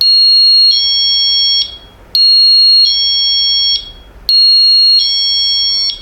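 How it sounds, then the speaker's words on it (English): A Mosaic MH306 door and window vibration alarm plays its ringtone: three loud, piercing electronic tone bursts of about two seconds each, separated by brief gaps. "Okay, and here we go, ringtone alarm."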